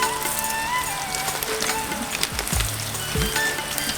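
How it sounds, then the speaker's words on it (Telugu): Peanuts and coriander seeds fry with green chillies in a pan for a cucumber chutney, producing a steady, dense sizzle that runs throughout, with a few low knocks and scrapes partway through. "పచ్చిమిర్చి గోలిన తర్వాత కొన్ని పల్లీలు వేసుకోవాలి కొన్ని ధనియాలు వేసుకోవాలి"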